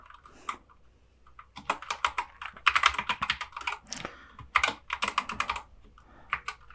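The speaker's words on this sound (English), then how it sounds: "So we're just going to type that in there now." Keys clatter on a computer keyboard while a database field name is entered, bursts of quick, close tapping separated by short pauses, with no talk.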